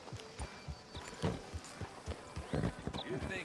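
Horse hooves clip-clopping at a walk outside a sheriff's office in Red Dead Redemption 2, an irregular close series of soft thuds under character dialogue.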